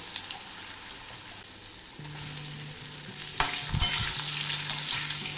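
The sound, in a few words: potatoes frying in a pan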